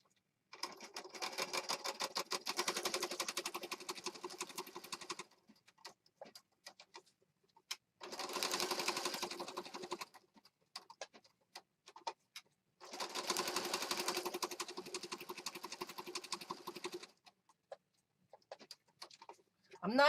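Sewing machine stitching around a paper piece for a junk journal: three steady bursts of rapid, rattling needle clatter, each a few seconds long, separated by quiet pauses with light handling noises.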